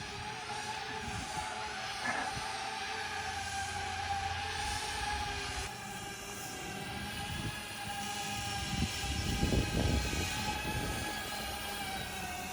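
A Wing delivery drone flies high overhead with a steady whining tonal hum, faint and distant, holding level over several seconds against outdoor background noise.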